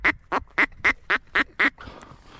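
A duck quacks seven times in a steady, evenly spaced series close by during an evening duck hunt, then falls quiet as faint background noise carries on.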